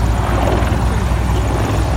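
An Apache attack helicopter, a ten-ton aircraft, flies a display at the 2017 Cosford air show, its rotor throbbing loud and steady with a deep rumbling engine drone throughout.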